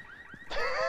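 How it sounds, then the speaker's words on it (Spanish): A Rainbow Six Siege alarm goes off: a loud, bright, steady electronic blare starts suddenly midway and keeps sounding, after a few fainter rising tones. "Pero hemos activado la alarma."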